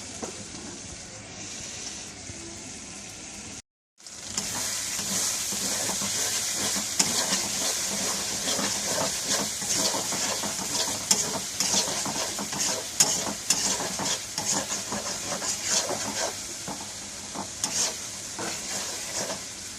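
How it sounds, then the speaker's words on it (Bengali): Tomato cooked down with spices in a hot pan, a steady broad sizzle and hiss running the whole time with frequent stirring scrapes, close and fairly loud, broken by one brief gap. "টমেটোর সাথে ভালো করে মশলাটা কষানো হয়ে গেছে"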